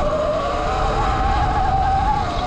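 An E-Ride Pro SS electric dirt bike accelerates hard on a climb, giving a loud, rising electric motor whine with rough wind and tire rumble underneath, continuous and close.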